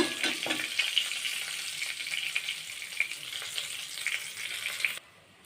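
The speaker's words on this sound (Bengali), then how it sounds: "একই তেলে আমি আলুগুলো ভেজে নেব সুন্দর করে।" Potatoes fry in oil in a pan, the same oil used for cauliflower, with a steady close hiss and crackle that cuts off abruptly near the end.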